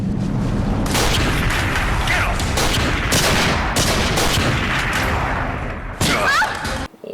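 Gunfire rings out in an action scene from the film Killer Saurus, with dense bursts of shots and booms packed closely together and voices audible between them.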